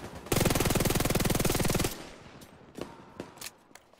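A long burst of rapid automatic gunfire from a weapon in The Division 2 hammers out close and loud for about a second and a half, then a few sharp single shots ring out alone.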